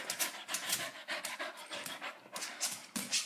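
Rapid, breathy panting from a young puppy, close and steady for a few seconds, with quick rhythmic huffs and no talking over it.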